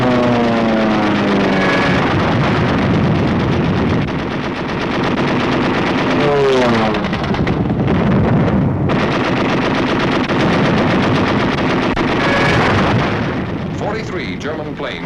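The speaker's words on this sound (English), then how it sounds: "Over all these targets, flak was intense and accurate." Wartime newsreel soundtrack of intense anti-aircraft flak fire, with rapid bursts and booming detonations rolling continuously under a dramatic music score, loud and dense throughout.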